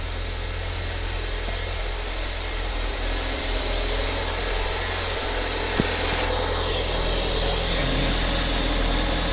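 Restored Ford Focus ST engine idling slightly rough, a steady low rumble with faint uneven vibration holding close and constant, no talk over it.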